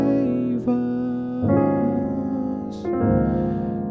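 Gospel jazz piano chords from the hymn Lord I Lift Your Name On High, played alone: three sustained, rich chords change at a moderate pace.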